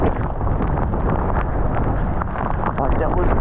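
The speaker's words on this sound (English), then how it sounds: "Like, that was actually so windy" Strong wind storm at Port Waikato roaring into the microphone, a loud continuous rumbling buffet that holds steady throughout with no let-up.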